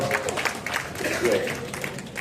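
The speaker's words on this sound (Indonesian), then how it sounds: "Tepuk tangan untuk Bapak dan Ibu semua di Gema Pesona." Residents of a neighborhood community applaud at a local meeting, a steady wash of clapping from a small crowd lasting a couple of seconds, with some voices talking over it.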